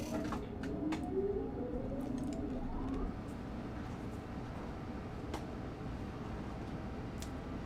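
A train locomotive powers up in the simulation game Train Sim World 2, a low rising electric whine sweeping upward over steady rumbling mechanical hum, fairly faint and continuous, settling into a duller drone partway through.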